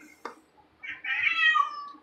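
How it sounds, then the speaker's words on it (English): A cat meows close by, one short chirp followed by a longer drawn-out meow, fairly clear against a quiet room. "I swear to this freaking cat."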